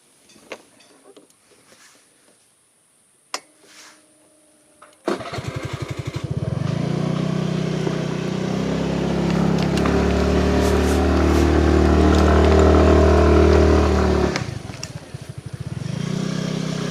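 In the village of Mendala in Brebes, a motorcycle engine bursts into life after a quiet stretch, then runs loud and close with a steady rumble for several seconds before fading away.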